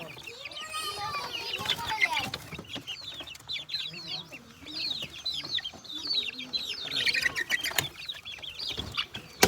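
Chickens and young roosters cluck and call continuously at close range, with overlapping sharp chirps and squawks and an occasional flutter of wings throughout.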